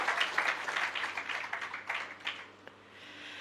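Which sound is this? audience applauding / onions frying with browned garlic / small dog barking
audience applauding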